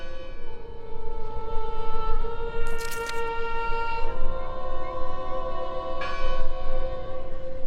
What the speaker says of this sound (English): Looks like the wind is moving the bell.